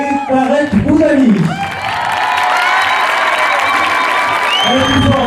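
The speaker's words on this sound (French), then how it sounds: "Et on va pouvoir applaudir et accueillir Philippe Lachaud et Tarek Boudali." Loud crowd at a French evening film event in Tarbes claps, cheers and whoops to welcome Philippe Lacheau and Tarek Boudali, with shouts and a voice rising over the din before the applause settles into a steady roar.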